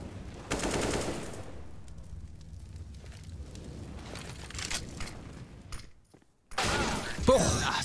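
Gunshots in the video game CS:GO on the Dust 2 map during a G2 versus ENCE match, with a loud burst near the start, quieter game noise in between and another sharp volley at the end.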